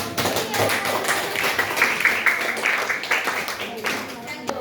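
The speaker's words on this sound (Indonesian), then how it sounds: "Beri tepuk tangan buat" Students in a classroom break into applause, a dense, continuous patter of many hands clapping at once, with voices mixed underneath throughout.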